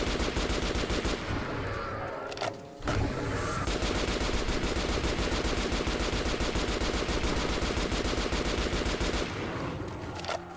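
Rapid RPK machine gun fire in the video game Metro Last Light Redux: near-continuous, loud automatic bursts with a brief pause, then more sustained shooting.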